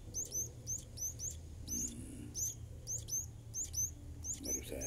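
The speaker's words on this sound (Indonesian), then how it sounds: "Kelihatannya anak burung ini anak burung kadasi." Kadasi (sunbird) chicks chirp in their nest, sharp high-pitched tweets repeating in quick pairs and clusters throughout, close and clear over a faint low background rumble.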